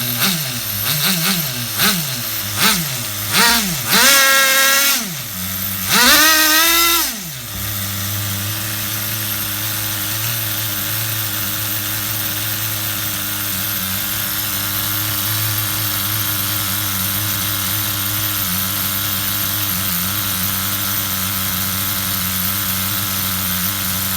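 A small nitro engine in an HPI RS4 RC Ford F150 pickup truck, run on 16% fuel, revs up and down in several sharp bursts, then settles into a steady, loud, buzzing idle that holds with no one talking.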